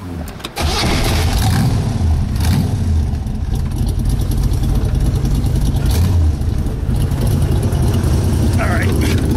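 A 1965–1967 Corvette Stingray V8 with hydraulic lifters cranks briefly and catches, then idles with a loud, steady, lumpy rumble that carries on to the end.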